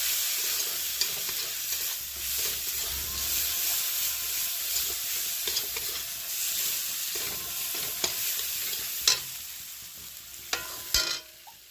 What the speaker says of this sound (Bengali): দিয়ে ভালো করে মশলাটাকে ভেজে কষিয়ে নেব